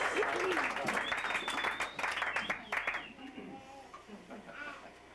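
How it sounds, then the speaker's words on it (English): Guests at a 60th birthday party applaud, a dense burst of clapping with cheers and voices that thins out over the last couple of seconds. "Big round of applause for the greatest sensation east of the Mississippi River."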